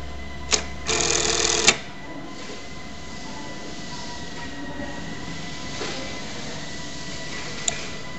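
A Bruce T1377E-B button stitch machine sews a button in one short, loud burst of mechanical whirring, framed by a sharp click before it and a faint tick much later, with a steady hum of the workshop underneath.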